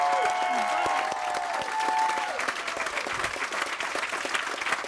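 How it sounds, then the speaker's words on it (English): Applause from the audience at a high school graduation ceremony for the class of 2019, a broad wash of clapping and crowd noise that continues steadily, with a tone sounding over it at first. "I'd like everybody here today to offer a big round of applause and congratulating our class of 2019."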